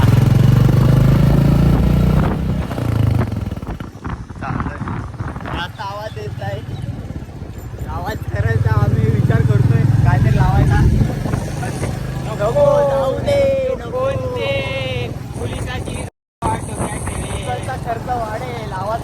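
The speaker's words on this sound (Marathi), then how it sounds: "गाडीचा आवाज बघा" A newly bought motor vehicle's engine runs close by, its steady low rumble rising and falling through the clip while people talk over it.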